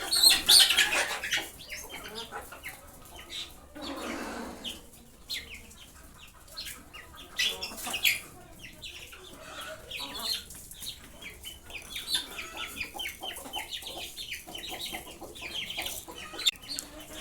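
Desi chickens at feeding time on rice, with scattered clucks and bursts of wing flapping, a sharper flurry near the start, moderately close amid rustling activity.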